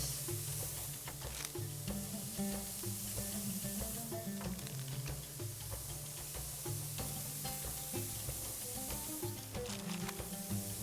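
Kabob meat cooking on one side, with a steady close sizzle and crackle running the whole time under background music.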